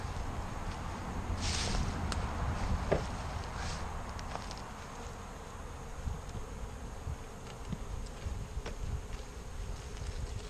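Honeybees from a package hive buzz in a steady, dense drone close by, with faint handling knocks and no talking.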